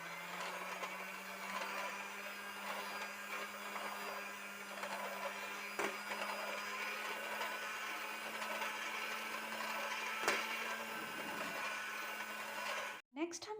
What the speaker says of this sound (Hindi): अब नेक्स्ट इसमें ऐड करेंगे 3 टेबलस्पून मिल्क पाउडर। विस्क कर लेंगे।